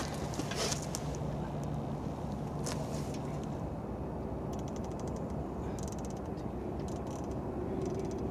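Scope turret on a 6.5 Grendel rifle being dialed for elevation, a close series of small mechanical ratchet clicks in uneven runs over a steady outdoor background hiss.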